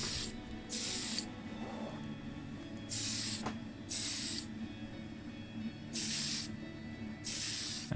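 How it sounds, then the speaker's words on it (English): White Tamiya Fine Surface Primer hisses from a spray can in five or six short bursts, each about half a second, separated by quiet gaps, close and fairly loud with no talking. "just a single, relatively light coat of primer, just to help adhere the main coat shortly"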